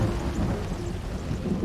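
Thunder rumbles low and steady under heavy rain from a fire-generated pyrocumulonimbus storm above a megafire, a continuous dense roar with no distinct claps.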